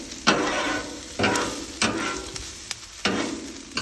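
Onions, garlic and fresh pasta sizzle on a Blackstone griddle, with a spatula scraping and stirring in several sharp, close bursts over a steady frying hiss.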